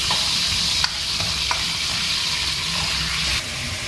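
Beef sizzles steadily while being stir-fried in a hot iron wok for a Xinjiang-style home stew, with a few sharp scrapes and taps of the spatula breaking through the close, continuous frying hiss.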